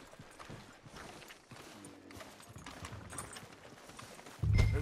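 Horse hoofbeats in Red Dead Redemption 2 clip-clop at a steady walking rhythm, close and moderately quiet, with a louder low thump near the end.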